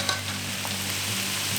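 Potatoes and carrots fry in a pan for a Korean stir-fried potato side dish, crackling in a constant, dense sizzle while being stirred, close and uninterrupted.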